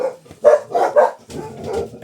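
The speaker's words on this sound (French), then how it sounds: "Ça faisait longtemps qu'on n'avait pas entendu les chiens qui gueulent." Dogs bark in a quick run of four or five sharp, nearby barks with a short pause between them, loud against an otherwise quiet background.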